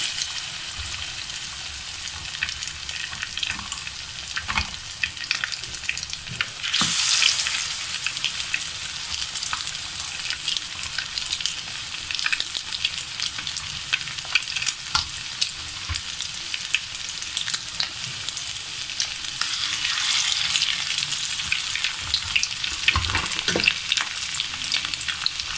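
Pallo fish frying in about two tablespoons of hot cooking oil, a steady close crackling sizzle throughout, with louder bursts of spattering around the quarter mark and again near the end.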